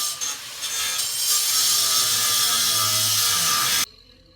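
An apprentice plumber's angle grinder cuts through metal on a plumbing repair job. Its loud, harsh, steady grinding whine holds for several seconds and then cuts off abruptly.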